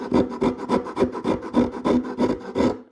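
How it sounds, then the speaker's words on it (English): A half-flat, half-round rasp files a violin upper nut in steady back-and-forth strokes, about ten rough, rhythmic scrapes close up with no talking. "the rasp that it's half flat,"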